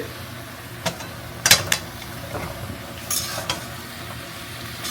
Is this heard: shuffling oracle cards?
no